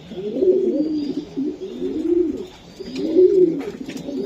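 Racing pigeons in a loft give several deep, rolling coos in a repeating rhythm, close by and clear with no talking.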